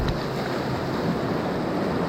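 Whitewater rapids on the Ocoee River in Hell's Half Mile, heard from a kayak as a steady, loud broadband rush of churning water with no talk.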